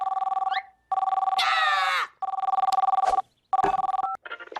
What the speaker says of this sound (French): C'est un signal de détresse.